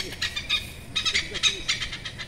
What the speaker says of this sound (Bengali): এই গাছটাতে বসে আছে দুটো পাখি, চিৎকার শুনতে পাচ্ছ